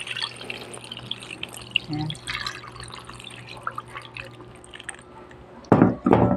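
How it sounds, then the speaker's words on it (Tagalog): Water is poured into a cooking pot of tulingan fish seasoned with salt and sugar, giving soft splashes and drips under kitchen clatter, ending in a louder, brief gush of pouring. "Tapos lalagyan natin ng tubig."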